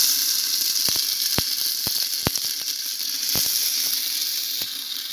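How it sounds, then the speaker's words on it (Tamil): Ginger garlic paste sizzles in hot groundnut oil, a steady bright hiss broken by sharp spitting pops at irregular intervals, heard close and alone. "எண்ணெய் காஞ்சிருச்சுங்க இப்போ இஞ்சி பூண்டு பேஸ்ட் போட்டுக்கலாங்க"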